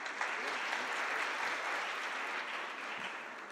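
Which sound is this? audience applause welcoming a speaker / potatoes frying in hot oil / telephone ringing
audience applause welcoming a speaker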